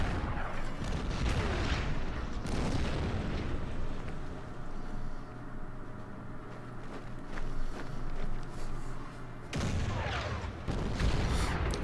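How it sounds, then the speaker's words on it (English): A Priest self-propelled gun firing artillery in the strategy game Order of Battle, heavy booming blasts crowding the opening seconds, a lower rumbling lull, then another loud burst of fire near the end. "Priest keeps firing."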